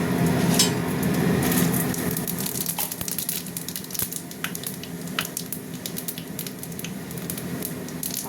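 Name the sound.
panch phoron spices frying in hot oil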